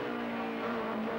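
A BMW M3 E30 race car engine heard from the interior during a hill climb at Rampa da Falperra, a steady loud droning roar with a sustained tone and no pauses.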